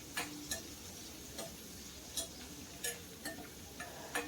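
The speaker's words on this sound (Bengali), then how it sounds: "এখন একবার খুব ভালো করে মিশিয়ে নেব।" Bitter gourd frying in a pan, a low steady sizzle with occasional light taps and clicks of a utensil stirring it, quiet and close.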